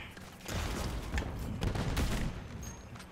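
Gunfire from a sniper rifle in Call of Duty Modern Warfare 3, a dense burst of loud overlapping shots and blasts filling about two seconds before tailing off, with faint reverberant game noise around it.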